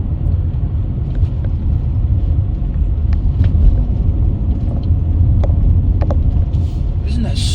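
A Tonga Green 2005 Range Rover L322 drives along the road with a steady low cabin rumble and road noise throughout, close and loud, with someone talking over it.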